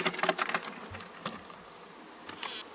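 Bees in a partly opened wooden hive, seen during a switch to new hives, give a faint, steady buzzing, broken by a few brief, sharper bursts close by, with no talk.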